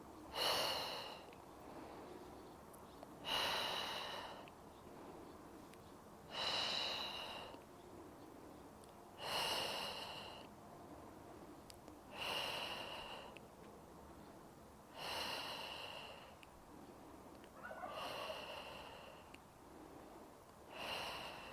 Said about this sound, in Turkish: Nefes al, ver. Al, ver. Al, ver. Al nefes.